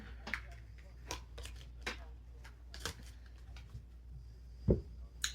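Hands shuffle a deck of tarot cards, giving soft repeated riffling and tapping in irregular bursts over a low background hum.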